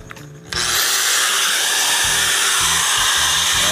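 A 720-watt angle grinder spins up abruptly and holds a loud, steady high-pitched whine, running as a load on a generator during a load test, with faint low thumps underneath and no talking.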